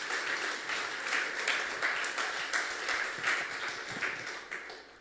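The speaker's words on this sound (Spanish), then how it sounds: "Dale un fuerte aplauso al Señor." A church congregation claps during a Spanish-language sermon, a fairly faint but continuous patter of many hands with loose rhythmic pulses, heard alone without talk.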